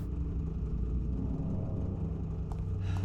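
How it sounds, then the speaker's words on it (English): A car engine idles with a steady, continuous low rumble in Silent Hill 2, moderately loud and unchanging throughout, with no voices. "There's a car engine running."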